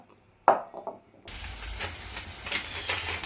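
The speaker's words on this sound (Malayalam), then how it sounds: "മുളക് പൊടി വെളിച്ചെണ്ണയിലാണ് മൂപ്പിക്കുന്നത്" A few clinks and knocks, then a sudden loud, steady sizzle of spices frying in hot oil close by.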